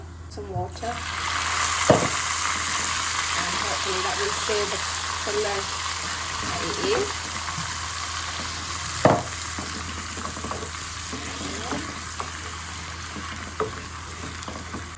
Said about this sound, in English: I am going to add some water